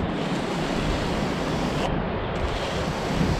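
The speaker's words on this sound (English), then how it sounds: "Give the level a wash. Always keep these clean." Running water rinses a plasterer's level clean on a rendering job, a steady, close rushing splash that fills the whole short stretch with little variation.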